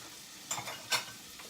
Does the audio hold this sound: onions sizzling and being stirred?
yes